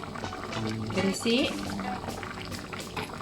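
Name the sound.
pajeri terung sauce boiling in pot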